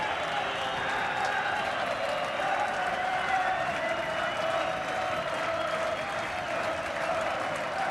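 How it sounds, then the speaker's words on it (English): Home fans applaud in a steady, dense wash of clapping and crowd noise through a night football match between Cliftonville and Celtic, with a faint commentator's voice under it. "Tommy Breslin applauds the home fans."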